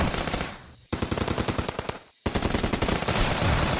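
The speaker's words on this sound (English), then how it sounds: "As they trek into the thick vegetation, gunfire erupts." Rapid bursts of automatic gunfire rattle loudly at close range, broken by two brief pauses before the shooting resumes.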